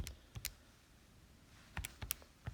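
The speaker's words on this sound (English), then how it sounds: "And then I'm going to type that in my calculator." Calculator keypad typed in a quiet room: a few faint, sharp clicks, in a pair at first and then a quick cluster of four, close and soft.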